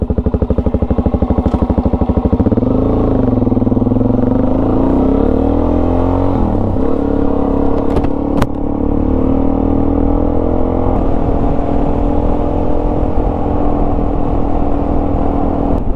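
A motorcycle engine idles with a rapid thumping rhythm, then pulls away and drones steadily down a road, loud and close throughout with a constant engine note and wind rush.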